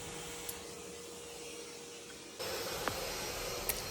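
A vacuum cleaner sucks dirt out of a sailboat's bilge between the water tanks, giving a steady, fairly quiet broadband rush that jumps a little louder partway through, with a couple of faint clicks and knocks.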